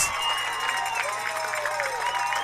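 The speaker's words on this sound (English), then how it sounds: "As the McDonogh crowd makes noise" Crowd cheering and shouting at a high school varsity lacrosse game between Gilman and McDonogh, a steady, dense roar filling the clip from start to finish with a voice talking over it.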